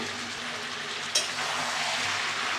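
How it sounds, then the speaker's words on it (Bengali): Spice paste frying for goat meat curry in a covered pot, a steady dense sizzle throughout with one brief sharp tick partway through, close and even. "আমি এখন মশলাটা দিয়ে কষায় নিচ্ছি"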